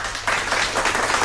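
A short burst of applause from a small group rises abruptly after a brief quiet start, then continues as steady, fairly close clapping.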